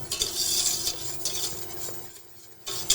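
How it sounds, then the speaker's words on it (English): A spoon or whisk stirring a thickening cheese soufflé base in a pot, with quick scraping and swishing strokes against the pan in an uneven rhythm and a faint low hum beneath. "There you can see this thickening up very quickly. Continue to stir"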